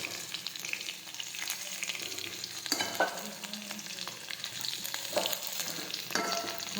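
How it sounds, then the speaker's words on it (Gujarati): Gunda (glueberries) sautéing in a pan on a stove, a steady soft sizzle with scraping stirs and occasional light clinks of a spoon, close and continuous without any voices. "આ રીતે આપણે સાતળતા જઈશું।"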